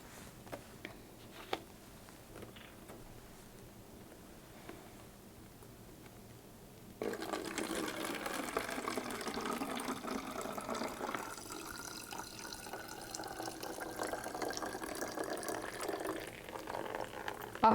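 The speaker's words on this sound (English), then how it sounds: "I'm going to stop adding my water" Water poured into a homemade bottle water fountain held over a bowl, a steady close trickle and splash that starts abruptly partway through after a quiet stretch with faint taps, then runs continuously.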